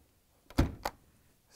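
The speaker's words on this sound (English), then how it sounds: "let's close the door, see if it latches." A GE refrigerator door swings shut with a solid close thunk, followed a moment later by a sharper latch click, both quiet and near with no talking.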